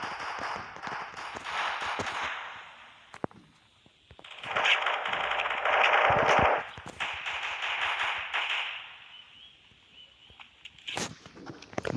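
Heavy gunfire in a Siren Head video game, with dense sustained bursts of rapid automatic fire that swell and fade in long waves, broken by a few sharper single cracks.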